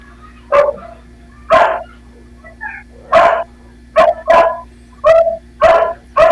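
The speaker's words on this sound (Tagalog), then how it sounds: "Ang ingay kasi ng aso." Dogs bark repeatedly nearby, loud sharp barks and yips coming in irregular bursts over a quiet background hum, with no other sounds between them.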